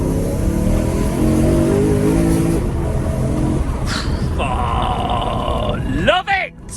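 A BMW E92 M3 Competition Pack driving on wet, greasy roads, its engine droning and rising through the revs, with a whoop of excited voices over the engine near the end.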